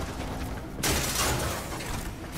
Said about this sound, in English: this gun is a burst fire weapon